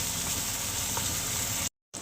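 Chopped tomato frying in oil in a pan for red lentil dal, a steady, bright sizzle that crackles continuously before cutting off briefly near the end.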